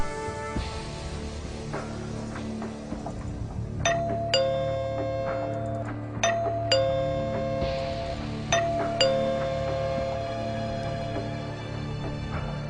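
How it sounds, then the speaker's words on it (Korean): A doorbell chimes repeatedly, ringing again and again in quick, insistent bursts over a low room hum. "또다시 초인종 소리가 울린다."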